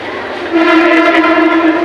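An electric local train at a Nala Sopara station platform sounds a loud, sustained horn with steady harmonic tones that swell after a brief lead-in over a rumbling background.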